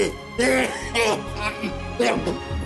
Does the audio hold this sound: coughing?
yes